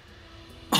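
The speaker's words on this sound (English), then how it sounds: "Coughed up half a lung. That doesn't sound healthy." A short, harsh cough bursts out at the very end, loud and broadband, after a stretch of quiet background hum from a Hearthstone game.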